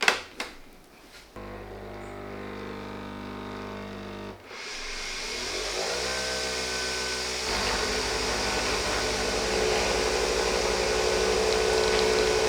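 A Nespresso Vertuo coffee machine brewing a pod under high pressure starts with a click and brief whir, then settles into a steady, loud, droning pump hum that grows denser and noisier as it runs, close by and without talk.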